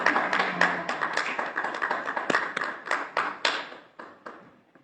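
An audience claps at a candidates forum, a few scattered, uneven hand claps rather than a full round, fading and thinning out toward the end.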